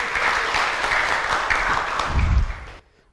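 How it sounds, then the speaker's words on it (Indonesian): Audience applause during a talk on peaceful death and rebirth, a dense steady wash of clapping that stops abruptly near the end, followed by silence. "Tepuk tangan, bagus."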